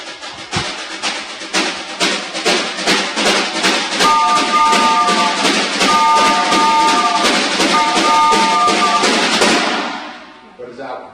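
Percussion instruments rapidly tap out a steady, chugging rhythm that imitates a choo-choo train, with a whistle-like tone joining in the middle before the pattern fades out.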